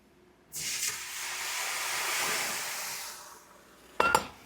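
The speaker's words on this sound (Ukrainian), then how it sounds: "І відразу на нижнє деко наливаємо кип'яток." Boiling water poured onto a hot lower baking tray in an oven while baking pumpkin bread gives a loud, steady hiss of steam lasting about three seconds, then a brief sharp clatter.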